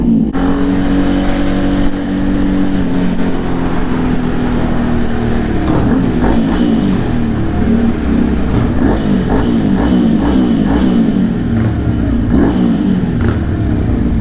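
Steady, loud engine drone of a motorcycle being ridden, with repeated throttle surges and revving rising over a constant rumble and wind rush, continuous throughout with no talk.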